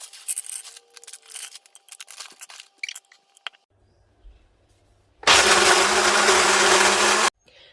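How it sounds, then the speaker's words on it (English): A blender grinding walnuts, almonds and cashews for Aussie Christmas chocolate Weetbix sherry balls, a loud steady whirring roar lasting about two seconds after quieter kitchen clatter. "I'm just going to blend up in my blender a few of my walnuts, some almonds, also some cashews"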